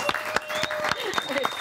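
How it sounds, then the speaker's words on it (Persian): A studio audience breaks into applause for a dancer on a Persian Nowruz variety show, with a brief run of sharp, scattered claps and hand hits, a tonal musical sound and voices mixed in beneath them. "تشویقش کنید"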